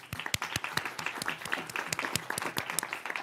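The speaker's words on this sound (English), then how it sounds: "Let's give a round of applause." A small audience at a board of education meeting claps for students, a modest round of distinct individual claps in uneven rhythm, fairly close and without talk.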